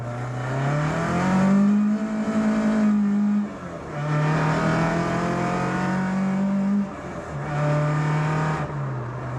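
A Ford Escort Mk2 drives to a car meet, its engine note climbing through three gear pulls with brief dips at each shift, loud and close with steady harmonic drone.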